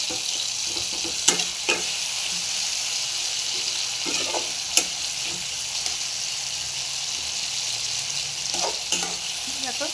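Mashed tomatoes frying in a pan for paneer curry, a continuous hissing sizzle with a few sharp clicks of a utensil against the pan.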